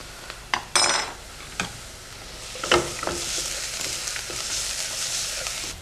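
Red chili dropped into a hot pan of oil gives a burst of sizzling and frying, with a few sharp clinks of utensils and a steady hiss continuing underneath, close and fairly loud with no talking.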